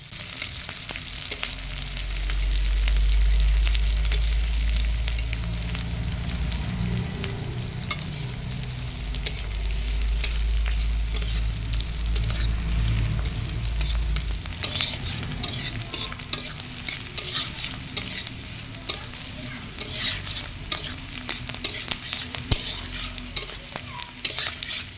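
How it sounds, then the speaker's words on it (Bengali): Sliced onions fry in a pan with a steady sizzle while a spoon scrapes and stirs them repeatedly, the clatter growing busier and more frequent toward the end. "খানিকক্ষণ ভাজার পরে পেঁয়াজটা কিন্তু বাদামি কালার হয়ে এসছে।"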